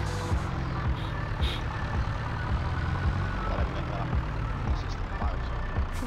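A new tractor engine in Farming Simulator 22 drones steadily with a low, rough rumble and faint clicking, running close and loud throughout, with occasional higher tones over it.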